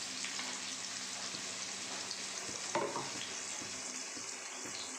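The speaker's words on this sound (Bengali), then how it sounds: "পেঁয়াজ কুচি দিয়ে দিলাম।" Chopped onions frying in hot oil in a pan, a steady close sizzle and hiss that holds through the whole stretch, with one faint utensil scrape midway and no voices.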